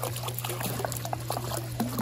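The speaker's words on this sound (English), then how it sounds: "Let it just pour out in there." Liquid chlorine pours from a container into a swimming pool, a brief splashing, trickling stream heard close and fairly loud over a steady background hum.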